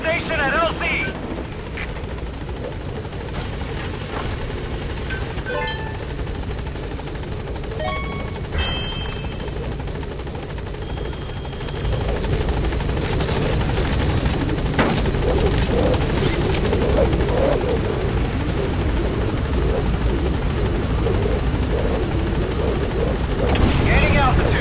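A helicopter arrives and settles at a landing zone in the Metal Gear Solid V: The Phantom Pain video game, its loud steady rotor drone growing heavier and more forceful partway through as radio voices talk over it.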